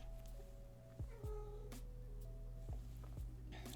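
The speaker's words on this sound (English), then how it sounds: "My cats. Oh, they're fighting." House cats meow and yowl in a brief scuffle, a few short rising cries spaced over a few seconds against a quiet indoor background.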